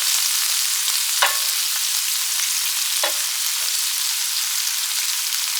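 Ground meat sizzling and frying in a pan for hamburger helper, a steady close crackle with a few scraping stirs of a utensil, no talk.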